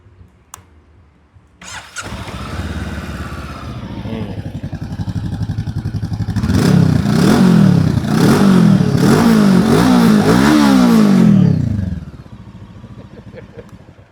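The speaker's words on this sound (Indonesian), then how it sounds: "Jadi suara khas 2 silinder dan knalpotnya itu sudah cukup merdu ya" Morbidelli T502X two-cylinder motorcycle starting up and idling, then revved repeatedly through its exhaust in rising and falling bursts before settling back to a steady idle.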